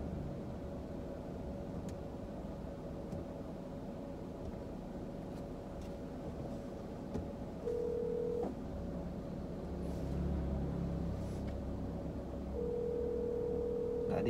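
A phone call rings out unanswered from inside a car stopped on a narrow street, a steady repeating ringback tone over low engine and road hum.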